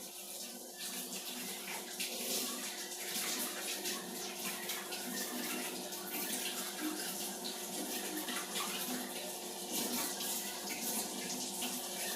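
Running tap water pours steadily over two pieces of ginger root as they are washed, a continuous close splashing hiss with no talking.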